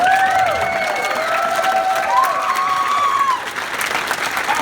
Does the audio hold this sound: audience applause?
yes